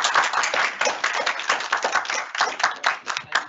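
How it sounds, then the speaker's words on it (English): A meetup audience claps to welcome a speaker, a small group's brisk, uneven run of individual claps close by, the separate hand strikes clearly distinct rather than blending into a roar. "a big clap and warm welcome for Ben, please"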